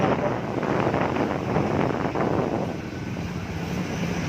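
A Yamaha Mio Soul i 115 scooter engine runs on only 60 ml of lubricant and no engine oil, a steady, close, buzzing drone that holds level throughout without pauses.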